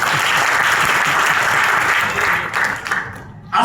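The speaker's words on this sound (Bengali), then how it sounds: "জোরে একটা হাততালি।" Loud, dense applause from a large audience at a DXN business training seminar, a steady wash of clapping that thins and dips near the end before swelling again.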